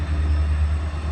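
A CSX track inspection geometry train rolls past with a steady low rumble and broadband rail noise, close and continuous without a break.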